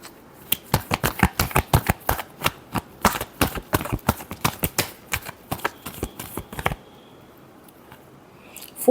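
Tarot cards riffled and shuffled by hand at close range, a rapid run of sharp crisp slaps and flutters lasting several seconds before stopping, followed by near silence.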